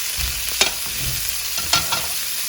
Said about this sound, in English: So I've got 2 tablespoons of sunflower oil in a pan, and once it's hot, I am adding 2 leeks chopped up nicely.